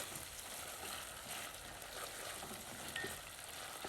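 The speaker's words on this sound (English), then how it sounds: "So I'm sauteing the vegetables, or the seasoning you may call it, yes, before I cook in the callaloo." Vegetables and seasoning sautéing in hot oil for Jamaican callaloo, a steady close sizzle and crackle holding evenly throughout with no talking.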